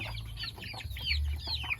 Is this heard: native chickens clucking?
yes